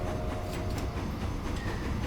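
A nearly full freight train on an oil line in the video game Transport Fever rumbles past steadily, with a faint rolling rattle and a dull low drone, and no voices.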